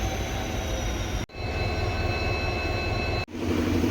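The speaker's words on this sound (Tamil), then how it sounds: "நம்மளை இன்னைக்கு புல் பண்ண போற logo WDP4D GOC 40174 golden rock diesel லோகோங்க" A train hauled by a WDP4D diesel locomotive, number 40174 from the Golden Rock shed, leaving Rameswaram station gives off a steady, loud, close rumble and roar, broken by two brief cuts, with no voices.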